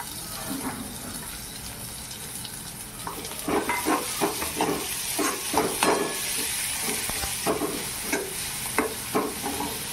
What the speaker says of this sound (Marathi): आता आपण कांदा टाकत आहे.